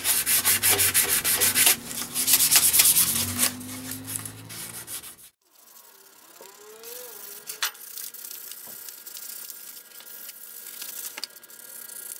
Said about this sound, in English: next thing I'm going to do is just sand off any sharp corners and any little rough router marks